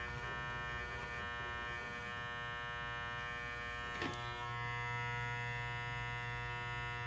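An electric hair trimmer cuts a hairline close to the ear with a steady, loud, even buzz that hardly varies, broken by a brief click partway through.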